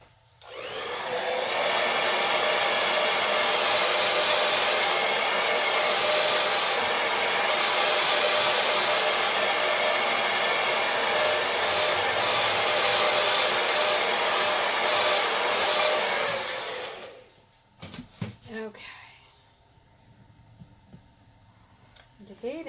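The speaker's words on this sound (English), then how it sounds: "let me give this a quick dry before we put the second layer on there" A handheld dryer blows steadily and loudly at close range over a painted wooden door tag for about sixteen seconds, then cuts off, followed by brief clattering and handling noises.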